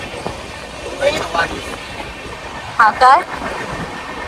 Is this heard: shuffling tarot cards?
no